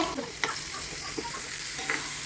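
Onions and curry leaves stir-frying in hot oil for a crab curry, a steady close sizzle broken by a few sharp scraping stirs of the spoon.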